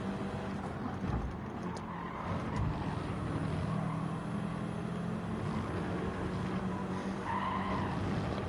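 Race cars in Gran Turismo 7 during an online Nations Cup qualifier at Maggiore, Italy, with tires skidding and squealing over a constant engine drone, the screech swelling and fading through the stretch with no talking.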